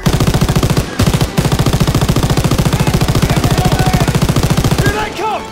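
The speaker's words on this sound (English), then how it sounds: "Someone get on the MG!" Sustained rapid machine gun fire in a Call of Duty WW2 Normandy D-Day battle, a loud, dense rattling burst with brief gaps, overlaid with game music and a few shouted voices near the end.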